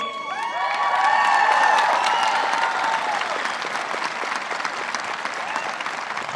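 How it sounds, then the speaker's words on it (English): A high school commencement crowd gives a big round of applause for the softball champions, dense clapping mixed with scattered cheers and whoops that peaks early and stays strong. "we should give a huge round of applause to our Whippeal softball champions"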